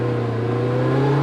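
Steady engine drone from a Polaris Slingshot between gear shifts, a loud, close, even hum that holds at constant revs with no talk over it.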